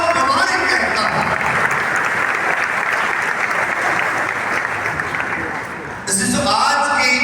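Church congregation applauding, dense sustained clapping from many hands in an indoor space, briefly thinning before swelling again near the end.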